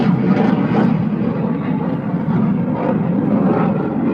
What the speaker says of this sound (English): let this airplane go by